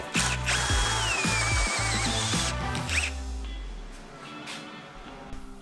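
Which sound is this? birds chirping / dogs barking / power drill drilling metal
power drill drilling metal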